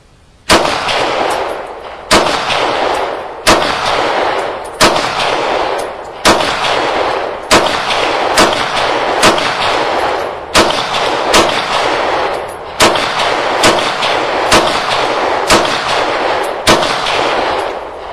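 A Glock pistol fires USA Ammo rounds outdoors, about fifteen loud sharp reports spaced roughly a second apart, each with a lingering echo tail.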